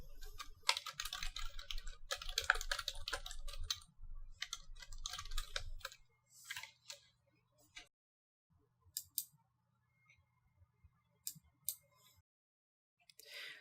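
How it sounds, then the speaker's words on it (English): Quiet clicking of typing on a computer keyboard in a Windows document app, a dense flurry of keystrokes at first, then sparse isolated taps with pauses, close and alone. "From here, they can type a note."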